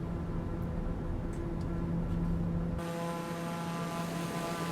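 A TBM 850 turboprop taking off in Microsoft Flight Simulator, a steady loud engine and propeller drone with a constant tone, shifting abruptly to a thinner, quieter hum as the aircraft lifts off.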